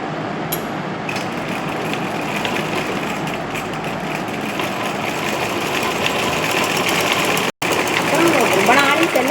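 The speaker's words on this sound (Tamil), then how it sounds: "அதை கெட்ட பக்கம் வச்சு தையல் போடணும்" A sewing machine runs continuously while stitching cloth, giving a loud, steady mechanical hum with a brief cut near the end before it carries on.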